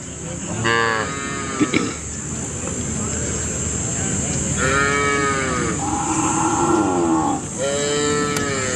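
Several cows moo in long, drawn-out calls at a native cattle market in Palayakottai, close and loud over a constant crowd murmur and background hum.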